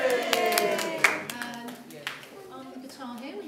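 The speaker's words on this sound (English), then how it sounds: "You can cheer everyone." At a Christmas rock concert in Aberystwyth, a crowd gives scattered, uneven claps and cheers while voices talk over and between them.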